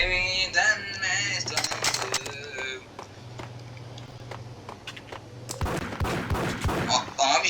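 Gunfire in the video game Max Payne rattles in rapid bursts over game music and effects, with someone talking over it and a louder cluster of shots near the end.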